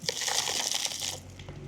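Soil and potting mix poured by hand around a newly planted tomato plant, a dense gritty rustle and patter of falling earth lasting about a second before it tapers off.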